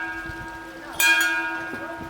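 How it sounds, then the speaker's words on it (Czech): A bell rings once in a Czech beer pub, a single bright clang that rings on briefly over low room noise. "Ten zvon znamená, že když na něj zazvoníme, tak je pivo zdarma."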